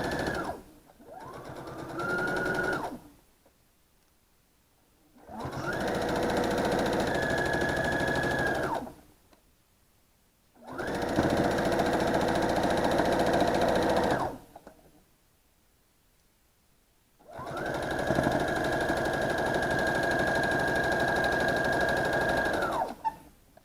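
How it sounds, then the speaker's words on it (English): A sewing machine stitches a 1/4 inch seam along the edge of fabric in four sustained runs of steady, whirring mechanical chatter, each separated by a short quiet pause. "now we're going to go to the sewing machine and we're going to sew 1/4 inch from the edge"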